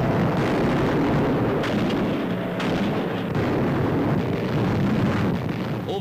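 Bombs exploding on a Nazi chemical plant making munitions in WWII newsreel footage, a dense, continuous rumbling roar of blasts and low thunder, steady and noisy throughout with no narration over it.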